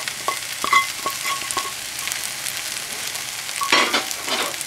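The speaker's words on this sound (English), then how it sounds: "As we continue to stir fry." Shrimp fried rice with egg stir-fried in a hot pan: a steady close sizzle with scattered metallic scrapes and taps of the utensil, no voices.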